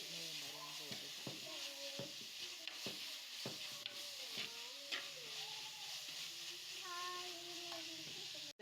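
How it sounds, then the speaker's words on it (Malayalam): Onions sauté in a pan for a Kerala-style pork curry, giving a continuous hiss and sizzle broken by repeated clacks from stirring. Faint tonal voices or sounds hover in the background. "ഉള്ളിയെല്ലാം നല്ലതായിട്ട് വഴണ്ട് വന്നിട്ടുണ്ട്."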